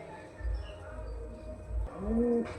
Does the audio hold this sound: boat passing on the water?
no